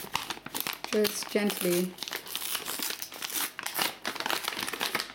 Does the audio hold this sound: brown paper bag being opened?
yes